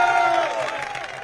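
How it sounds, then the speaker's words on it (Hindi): An audience at an outdoor election campaign broadcast in Indore claps and cheers, a loud, dense crowd roar with raised voices, lasting only a brief moment. "जोरदार तालियां हो जाए।"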